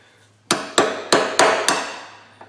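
Five sharp hammer blows land on the hydraulic steering cylinder of a Kubota BX22 tractor during a reseal, each metallic strike ringing briefly before the next, close and loud, with a faint sixth tap at the end.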